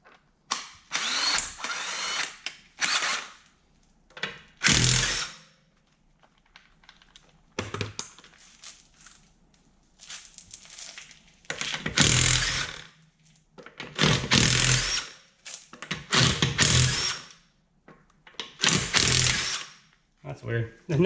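A Harbor Freight power tool runs on a nut in repeated loud bursts of buzzing and rattling, separated by quiet pauses, with a voice speaking between some of the bursts.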